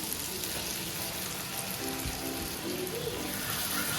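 Marinated lote fish goes into a pan of frying onion and tomato, giving a steady, close sizzle with watery crackle throughout and a brief soft thump partway.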